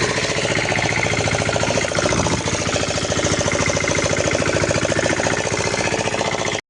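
A pull-started farm machine engine runs loud and steady at close range, a dense rapid chugging drone throughout that cuts off abruptly at the end.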